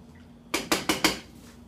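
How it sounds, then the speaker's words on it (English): A utensil knocks four quick times against a cooking pot of yakamein noodles, sharp metallic clacks in a short burst after a quiet moment, with no talking. "Stir up my noodles."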